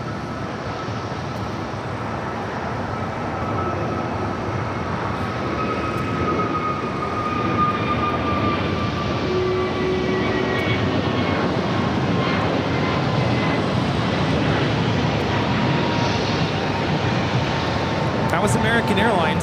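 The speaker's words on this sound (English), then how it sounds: "That was American Airlines 206 taking off to Dallas-Fort Worth on an A321neo." An American Airlines Airbus A321neo jet takes off at a major airport, its engines making a steady, loud roar that builds and holds throughout, with faint tonal whines on top and brief talk heard over it.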